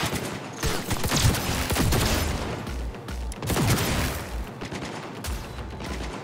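Automated turret in Cyberpunk 2077 firing loud sustained bursts of gunfire, dense rapid volleys that swell and ease over several seconds with booming low impacts, no talking.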